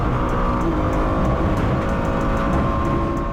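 A Le Mans Cup race car at Mugello circuit, its engine screaming at high revs under a steady loud drone from onboard, continuous with slight pitch shifts and no speech.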